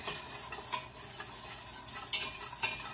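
A whisk stirs melting butter in a pan over medium-low heat for a crab macaroni and cheese sauce, giving soft, continuous scraping with a faint sizzle and a couple of light metallic taps.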